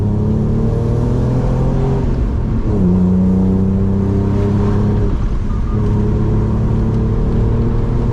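BMW E46 325Ci inline-six revving steadily up close, with a sustained throaty drone and rising and falling pitch sweeps as the engine climbs and settles.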